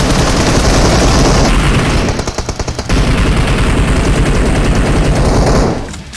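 Sustained automatic gunfire in the game PUBG Mobile, loud, dense rapid shots running almost continuously with a brief choppy break in the middle, and no talking.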